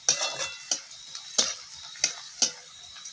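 Chopped curry leaves stirred in a frying pan with a utensil, giving sharp rhythmic scrapes about every half second over a soft background sizzle.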